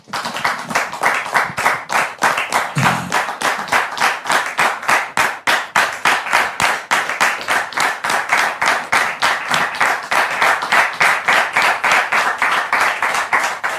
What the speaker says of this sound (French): Public, merci de recevoir l'époux de Dame Mélissa sous vos applaudissements